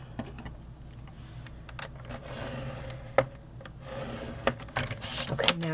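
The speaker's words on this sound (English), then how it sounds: "and I'm going to score it" A scoring tool drags along a 5 by 4 inch card base at the 2.5 inch mark, making close, soft scraping rubs broken by sharp clicks and taps.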